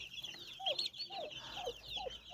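Chickens cluck in a short, close burst of several soft calls with higher chirps mixed in, from poultry at a small farm where chicks and turkeys are raised.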